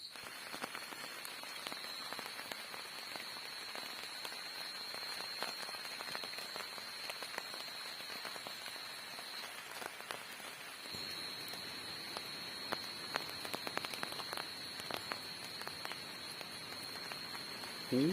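Steady hiss of heavy rain falling on a surface at a forest campsite, with a constant high-pitched whine running through it and scattered crackles; no voices.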